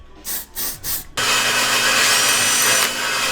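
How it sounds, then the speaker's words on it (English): A power drill drilling metal on a BMW E36 drift car whines loudly and steadily after a few short revving bursts, grinding continuously close by without any talking. "we're trying to drill this out really quick"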